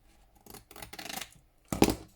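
Scissors trim misprinted paper off a journal cover in a few close, quiet snips, with a crisper, louder cut near the end.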